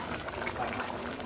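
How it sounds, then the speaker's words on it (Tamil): Fig kootu, a Tamil dish of athikai simmering with spices and salt, bubbling in a pot, a soft continuous burble at low volume without a break. "நல்லா கொதிக்குதுப்பா"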